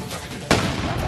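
A sodium explosion goes off outdoors near Tumakuru. A sudden loud blast cuts through the background and then rumbles on with sustained noise.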